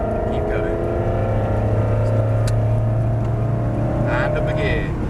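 A Ferrari accelerates hard on a race track, its engine note loud and close and climbing steadily in pitch, with an instructor speaking over the engine.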